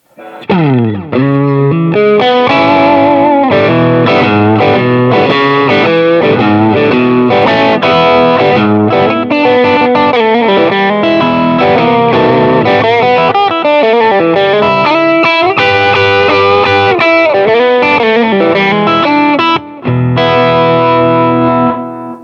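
Gritty, overdriven electric guitar through the BB preamp of a Nace M3-7R combo amp plays a busy bluesy run of notes and chords, loud and close, with barely a pause throughout.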